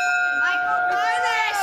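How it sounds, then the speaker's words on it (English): A bell rung by a participant in a 9/11 memorial stair climb rings out as a steady, sustained tone with a clear ringing overtone, heard under a voice talking. "each participant, like Nicole Mers, rings this bell."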